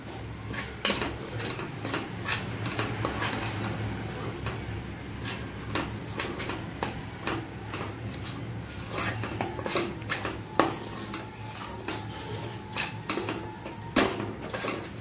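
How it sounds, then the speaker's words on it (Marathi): A spoon scrapes and clinks against a pan while coriander powder, paneer masala, salt and turmeric are mixed for a dhaba-style kaju paneer masala. The taps and scrapes are irregular and moderately loud over a steady low background for the whole stretch, with no talk. "सर्व मसाले छान मिक्स करून घ्यायचे आहेत"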